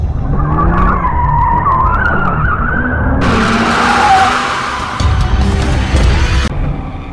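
A fast ordinary car driven hard skids with sustained, high tire squeals over a loud engine roar, the screech rising and shifting for several seconds at close range.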